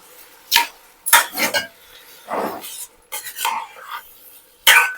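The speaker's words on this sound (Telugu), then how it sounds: "బియ్యం వేసేసాం కదా, ఇప్పుడు ఒకసారి బాగా కలిపేసుకుందాం" Rice and masala being mixed in a pot for tomato coconut milk pulao, with separate scraping strokes of a spoon against the pot coming in short bursts with pauses between them, close and fairly loud.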